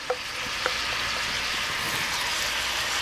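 Kale and chopped red onion sautéing together in a pan, a steady, even sizzle with a couple of faint clicks near the start, close and continuous with no talking.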